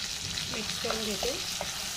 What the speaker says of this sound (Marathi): थोडंसं तेलावरती परतून घेते, म्हणजे त्याला खूप छान कलर येईल.